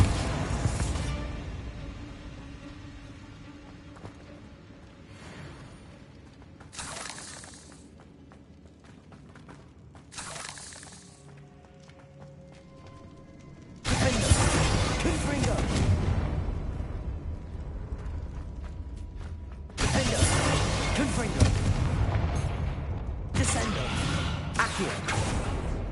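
In the Hogwarts Legacy video game, a Bombarda blast spell smashes a barricade: quiet game ambience gives way to two sudden loud booming bursts, each followed by sustained rumbling debris and crashing.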